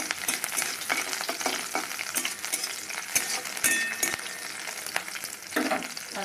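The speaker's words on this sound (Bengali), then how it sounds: "তেলটা গরম হয়ে গেছে, রসুন কুচি দিয়ে দিলাম।" Chopped garlic and green chili fry in hot oil, giving a dense, continuous sizzle with occasional sharp clinks of a utensil stirring the pan, loud and close with no voices.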